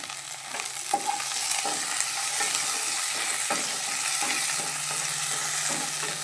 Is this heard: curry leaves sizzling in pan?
yes